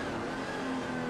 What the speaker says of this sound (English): Just hear the sing of those 2 911s together.